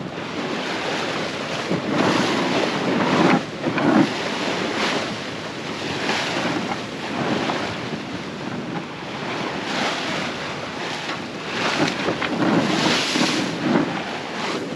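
Sailboat heeled under full sail in about 17 knots of wind, beating into short four-foot waves; rhythmic surging crashes of water against the hull recur every couple of seconds over steady wind buffeting the microphone.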